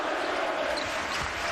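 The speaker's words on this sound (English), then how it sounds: "66-27 as the crowd chants Ewing's name" A basketball arena crowd during a Duke Blue Devils versus Miami Hurricanes game chants a player's name, producing a dense, steady roar of many voices that fills the whole moment.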